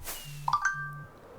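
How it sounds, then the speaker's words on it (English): A phone notification chime rings out in a Minecraft-style game session, a couple of bright ding tones over a low game hum and faint background sounds. "And that's my phone."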